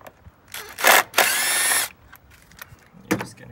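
An impact driver takes an 8mm bolt off a 1999-2006 Silverado near the idle air control valve, sounding in two loud close bursts of buzzing whir, the second longer, followed by quieter clicks and handling noise.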